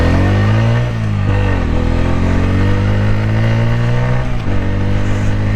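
A Bajaj Pulsar N160 motorcycle runs in third gear at about 60 during a brake test, its engine a loud, steady drone that dips briefly as the rider slows, with no talking.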